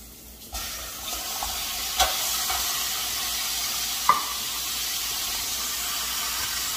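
Chicken pieces hitting a pan of browned garlic and onion, setting off a steady hissing fry with a few clinks and knocks from stirring, close up and without speech.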